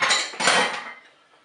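Potatoes and cabbage tumble into a Cookeo electric pressure cooker pot with two quick clattering, rustling drops that fade away quickly, close by.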